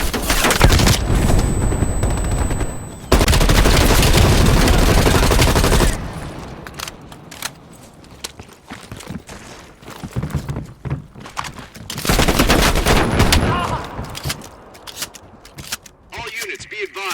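Heavy machine gun raking from a ridge in Call of Duty Black Ops Cold War, loud sustained bursts in two long stretches with scattered thuds and booms between, heard over battlefield din and voices.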